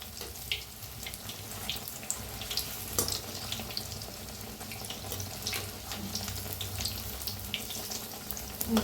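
Onion and potato pakoras fry in hot oil with a loud, continuous sizzle and bubbling that rises and falls throughout. There is no talk.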